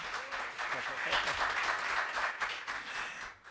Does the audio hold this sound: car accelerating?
no